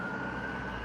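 An ambulance siren sounds at a distance, a steady wailing tone under faint background noise, with no speech.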